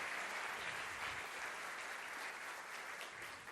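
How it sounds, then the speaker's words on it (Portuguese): Audience applause for a speaker at a UX and behavioral economics talk, a steady dense wash of clapping held at an even level for several seconds with no voices. "Salva de palmas para o Ricardo Couto."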